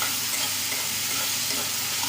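Spinach and split moong lentils sizzle and hiss steadily in a hot pan as they are sautéed and stirred, a close, continuous frying sound with no one talking.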